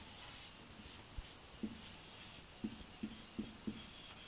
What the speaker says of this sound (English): I am writing again the same equation from the step 2.